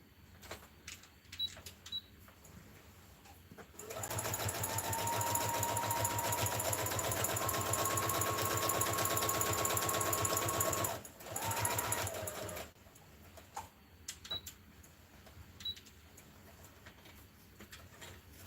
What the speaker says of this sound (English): So I sew down to that line, and I'm going to go across the front.